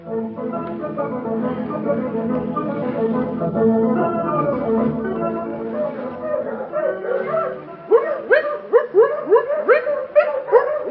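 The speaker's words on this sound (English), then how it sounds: "We come to see Bonnie Blue's new puppy." Newborn puppies in an old-time radio drama set in Mississippi's Piney Woods yip and whimper in a quick run of close, high-pitched cries, following a stretch of music and voices.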